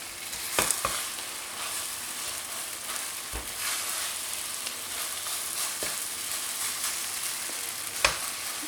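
Spoon scraping stuck carrot and apple cezerye mixture off a pan, several sharp scrapes and knocks over a steady, busy sizzle of the cooking sweet, with no voices.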